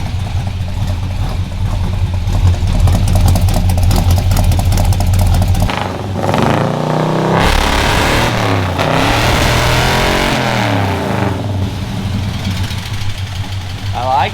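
A Chevy Nova engine runs after exhaust work, idling with a low rumble, then blipping the throttle in several rising and falling revs, loud and close.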